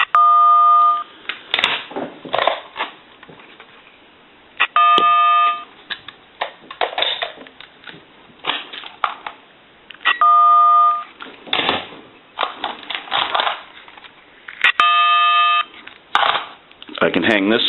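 A multi-telephone intercom system sends out short electronic tone bursts, four separate beeps spaced several seconds apart, with someone talking between and around them.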